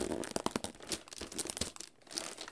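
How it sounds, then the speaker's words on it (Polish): Gift wrapping of plastic foil and paper is torn open up close, a quiet run of crinkling and ripping bursts in uneven rhythm. "spakował mi te prezenty w folię, folię, papier, ale trzeba to zniszczyć"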